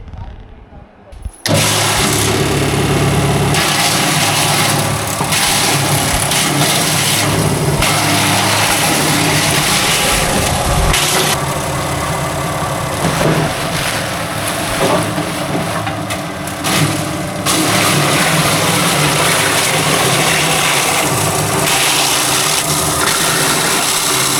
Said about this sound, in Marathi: मशीन चालू करणार, चालू केल्यानंतर कीच खाली पडणार.